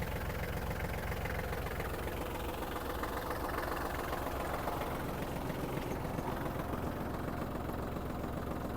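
A Kubota GL-25 Japanese mini tractor idles while standing still, its engine giving a steady, even, rattling drone that holds at moderate volume throughout with no talk over it.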